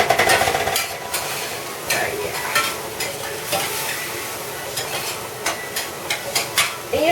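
Onions and garlic cook in a pan with a continuous sizzle, broken up by repeated light clinks and scrapes of stirring at close range.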